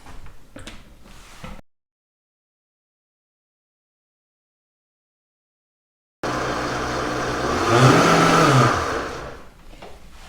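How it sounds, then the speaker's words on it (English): Kitchen blender whirring through nut milk with a cinnamon stick, running loud and close for about four seconds and rising in pitch before winding down, after a short stretch of handling clatter and silence. "we're going to add to that a cinnamon stick, and we're going to blend this up."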